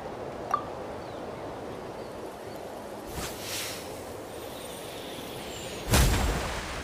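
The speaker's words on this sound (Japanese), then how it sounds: "何の音だ？ 爆発か？" Explosions in the video game Genshin Impact, in the Natlan region: a faint distant pop early on, then a muffled blast at about three seconds and a sharper, louder boom near the end, over low ambient hiss.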